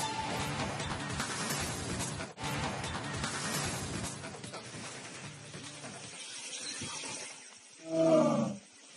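A tiger roars on safari near Kabini in HD Kote, Mysuru, a deep, rough call heard at a distance amid wind and vehicle noise, with one louder roar near the end.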